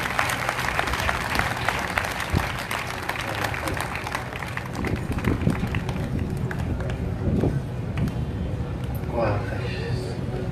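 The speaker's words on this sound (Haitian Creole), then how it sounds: "Applaudis mon Dieu réellement." A congregation claps and cheers at an evangelical crusade in Gonaïves, Haiti, with dense sustained applause from a large crowd as a preacher speaks over it.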